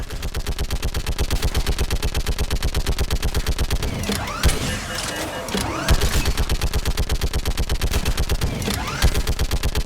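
Rapid automatic gunfire in Mass Effect 3, a dense, relentless stream of loud shots in a fast, regular rhythm for nearly ten seconds, with a brief gap of scattered blasts midway and a voice calling out over it.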